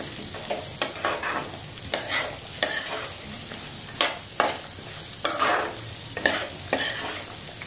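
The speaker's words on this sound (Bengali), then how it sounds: "চালটাকে এইভাবে ভালো করে ভেজে নেব।" Rice for Bengali sweet polao fries in a pan, a constant sizzle broken by repeated sharp scrapes and knocks of a spoon stirring, close and fairly loud.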